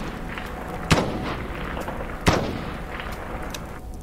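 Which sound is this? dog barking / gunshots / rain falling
gunshots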